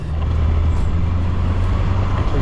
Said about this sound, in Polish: Czas na ostatnią już próbę z 70 km na godzinę, także muszę się tutaj napędzić.